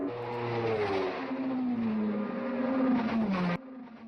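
Race cars, including Jaguars, Mercedes and Ferraris, at the 1955 Le Mans 24 Hours, with a loud continuous engine roar and a steadily falling pitch as the cars sweep past, cutting off abruptly near the end.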